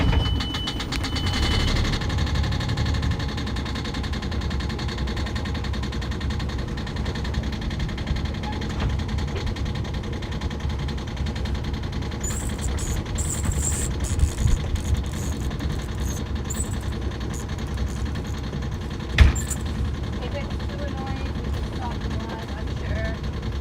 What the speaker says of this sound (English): let us know how noisy the engine is